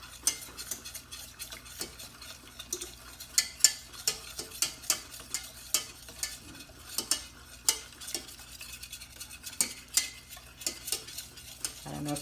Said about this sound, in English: It's easier if you use your whisk.